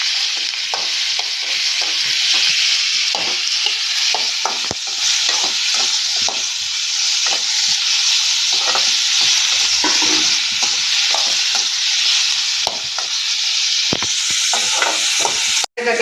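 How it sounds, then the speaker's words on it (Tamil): Onions, tomatoes and green chilies sauté in a hot pan with a steady sizzle, punctuated by repeated scraping stirs of a utensil, close and loud with no talking. "இதை நம்ம லைட்டாக வதக்கி எடுத்துக்கலாம்."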